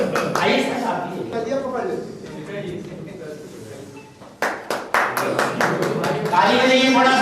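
An audience at a teachers' training session claps in scattered sharp bursts that grow denser near the end, mixed with voices talking over and between the claps.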